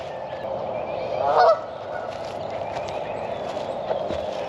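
A single loud goose honk rises abruptly from a constant background and fades within a second, followed only by quiet outdoor ambience.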